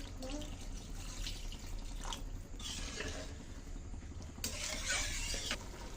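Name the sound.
water being poured into cooking pot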